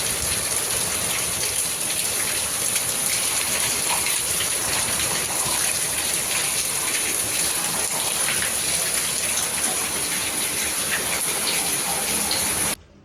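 Rain pours down in Jamnagar as an unbroken, even rush of water lasting the full stretch and cutting off abruptly at the end.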